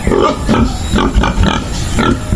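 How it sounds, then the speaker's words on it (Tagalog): A farm pig raised for butchering grunts and snorts continuously, loud and close, a rough rhythmic rumble with no clear talking. "Yan po yung kakatayin baboy."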